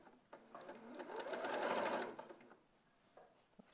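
A sewing machine runs in one short burst, stitching along fabric, rising to a steady whirring hum and then dying away, close and fairly quiet.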